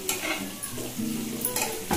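Tiger prawns fry in a masala in a pan, a close sizzle with quick scraping stirs and a light clink of metal near the end, short and without any voices.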